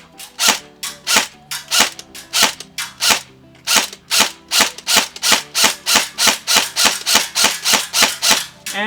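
An airsoft M4 rifle fires on semi-automatic, about two dozen sharp, loud, close shots at a fairly steady pace of roughly three per second, each with a brief mechanical snap and no talking.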